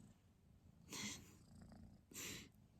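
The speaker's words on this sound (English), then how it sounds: "Purring away." A cat purrs softly and close by, a low steady rumble broken by two louder breathy swells about a second apart.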